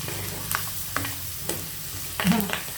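Curry leaves hit hot oil in a pan of mint rice, a soft sizzle running throughout with several sharp scraping stir strokes and a brief louder burst near the end, close and fairly quiet.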